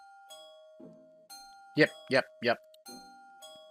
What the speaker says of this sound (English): If you leave the refrigerator door open too long, it chimes.